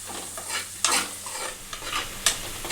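Carrot frying in a pan with a steady sizzle, a spatula stirring it in a few distinct scraping strokes near the start and end, close and moderately loud, no talking.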